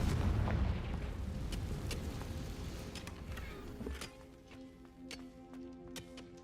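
A Confringo blast spell cast in Hogwarts Legacy hits as a loud, booming explosive burst at the start and decays into rumbling debris, followed by fainter crackles and a ringing tone.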